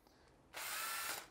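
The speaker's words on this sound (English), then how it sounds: "all you gotta do is spin the head to tighten the bit up" A drill chuck head spun by hand to tighten the bit, a sudden loud, steady whirring ratchet rasp that starts midway and holds for under a second before easing off.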